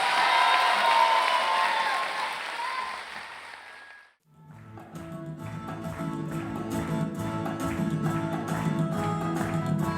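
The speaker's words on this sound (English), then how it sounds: "for this we must have another round of applause" Cheering crowd applauds at a South African Tamil community anniversary celebration, dense and lively with whoops, fading out midway before a second burst of busy crowd noise and chatter rises again.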